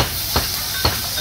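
Hilsa fish from the Padma frying in hot oil at Mawa ghat, a continuous loud hiss with two short soft pops breaking through the steady sizzle.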